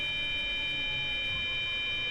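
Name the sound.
PZB emergency brake warning beep in Train Sim World 3 video game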